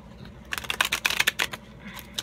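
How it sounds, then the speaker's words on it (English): A well-worn deck of tarot-style cards being shuffled by hand, a close, quick run of crisp riffling clicks that builds to a burst and then trails off into a few soft taps. "So let's shuffle my cards here."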